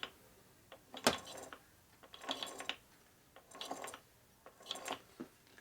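A rebuilt Revtech transmission for a Harley shovelhead, left in low gear, turned by hand so its gears spin freely: quiet clicking, ratchet-like bursts recurring about every second, close by, with no talking.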